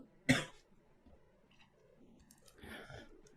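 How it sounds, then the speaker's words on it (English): One sharp, close cough rings out, followed by quiet rustling and a faint breathy throat sound. "I'm going to cough 1 second."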